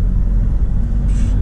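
Steady low road rumble from a car driving through the Cologne area, continuous and close, with a brief hiss rising over it near the end; no talking.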